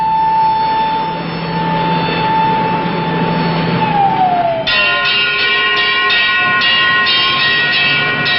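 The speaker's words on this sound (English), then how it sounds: "the banshee wail of the siren echoes the warning" A loud civil defense air-raid siren wails with rising and falling tones, then shifts to a stuttering, pulsing pattern, close and dominant throughout.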